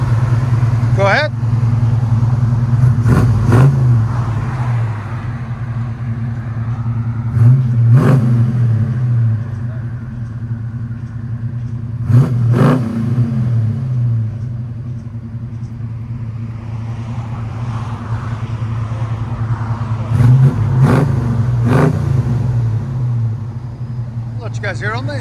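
A 1971 Buick Riviera with a 455 V8, headers and a Borla Pro-XS exhaust idles with a deep, loud rumble, broken by four sharp revs that rise and fall back at spaced intervals.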